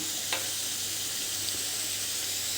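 Ginger, chili and garlic paste sizzles in a pan while being stirred for veg cheese spring roll filling, a steady soft frying hiss with a faint scrape or two and no voices.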